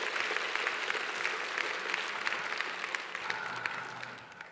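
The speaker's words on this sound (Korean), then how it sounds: "우리 하나님께 우리 한번 박수로 영광을 올려드립니다." A Korean church congregation in Queens applauds during a Sunday worship service, a dense, steady wash of many hands clapping that lasts several seconds at moderate distance.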